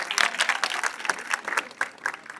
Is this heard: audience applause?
yes